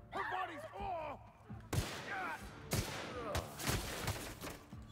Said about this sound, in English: Stop hitting me with these automatic weapons